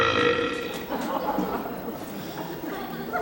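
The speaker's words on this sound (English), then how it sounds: "It was the biggest burp I'd ever done." A big, loud burp from a child actor in a stage performance of Matilda, a rough, drawn-out belch of a few seconds with chatter and laughter around it in the theatre.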